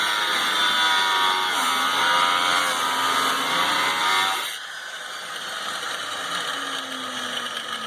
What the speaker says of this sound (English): See if I can cut a slot through there.